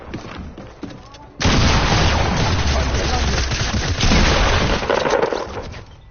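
Loud, close Fortnite gunfire: quieter shots at first, then a sudden sustained barrage of rapid shots and booms for about five seconds, with a voice over it.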